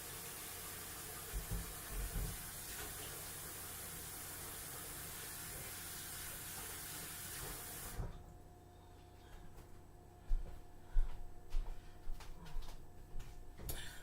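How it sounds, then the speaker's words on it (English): Tap water runs steadily as hands are washed at a kitchen sink during cake baking, a continuous broadband hiss for about eight seconds that then cuts off, followed by scattered faint knocks and handling noises. "Let me wash my hands."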